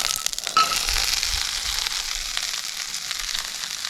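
Tofu dropped into a hot pan of oil, frying with a steady, close crackling sizzle that carries on alone after a brief burst as it goes in.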